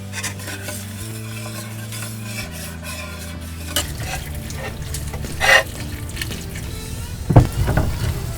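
Meat going into a hot pan aboard a 41 ft sailboat sets off a rising sizzle with scraping and utensil clatter against the pan, close by, following a steady low background hum, with no talking.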